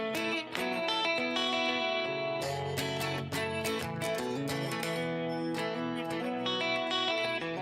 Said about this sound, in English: I gotta put my reverb on to sing